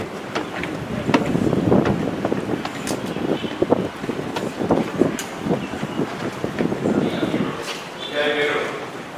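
Gusty wind buffets the microphone on a building rooftop at night, a steady rushing roar with sharp bumps and rustles that carries on throughout.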